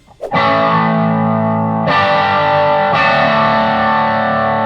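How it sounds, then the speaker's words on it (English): Heavily distorted electric guitar chords through an amp with an extra gain stage engaged ring out loud and sustained, with a new chord struck twice more, no voices. "What I just had there was the extra gain stage engaged"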